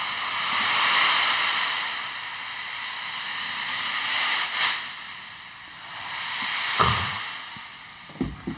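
A sieve holding small beads is tilted and shaken as a wave-like instrument, giving long swelling hisses that rise and fall like surf, with a few sharper rattling bursts near the end.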